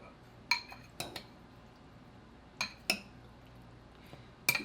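Greek salad being tossed with dressing in a bowl, heard as a few scattered sharp clinks and taps of a utensil against the dish, in small clusters separated by quiet pauses.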